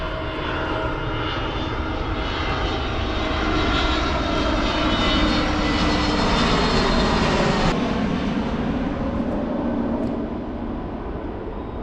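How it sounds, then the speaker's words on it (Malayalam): An airplane passes low overhead near a paddy field, a loud, continuous jet engine roar that swells and holds strong before easing slightly toward the end, with no voices. "കാണാൻ ഫ്ലൈറ്റ് വരുന്നതാണ്"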